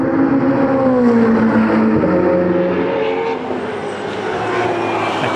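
Race cars including a Ferrari F488 Challenge lapping Ledenon circuit, a continuous loud engine drone with shifting pitch throughout, no voices.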